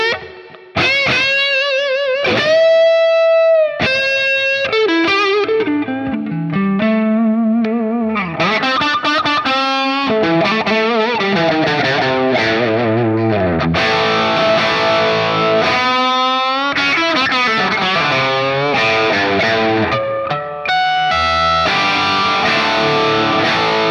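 Electric guitar played through a Tonex capture of a Marshall SV20H set to a vintage rock crunch with added reverb, loud and alone, with ringing sustained notes, bends, chords and quick melodic runs over twenty-odd seconds.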